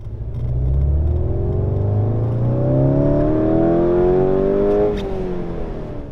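Škoda Octavia RS engine in sport mode, a steady loud rumble rising in pitch through a long acceleration pull, then easing off briefly near the end, heard alone without talk.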